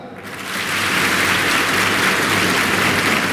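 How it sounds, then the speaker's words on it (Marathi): Applause from women seated in the audience at a Pandharpur guidance camp starts a little softer, then quickly swells into loud, sustained, dense clapping that carries on evenly to the end. "महिला मंडळ तुम्ही टाळ्या वाजवायच्या जोरात."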